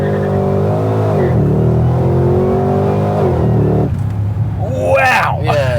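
A 2017 Holden HSV GTSR VF Commodore accelerating, its engine note rising loudly and close through the gears with a strong drone, ending in a brief burst as someone speaks over it.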